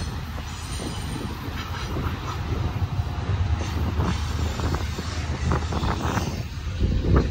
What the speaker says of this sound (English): Union Pacific on the Palmdale cutoff up there. That train's going southbound towards West Colton.